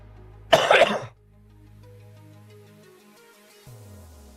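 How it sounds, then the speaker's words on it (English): A single sharp, loud cough bursts out close up, then fades into a quiet background hum. "That wasn't that bad of a cough, was it?"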